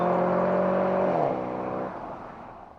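A 2009 Dodge Challenger's engine accelerates hard, its loud rising roar climbing in pitch, then briefly dropping as it shifts and settling into a lower, fading drone, with no voices.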